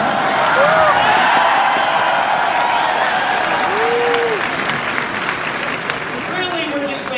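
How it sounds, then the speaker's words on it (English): An audience at a book release party claps steadily, a dense wash of applause from a large crowd that holds loud for several seconds and then tapers slightly. "You guys can clap for anything."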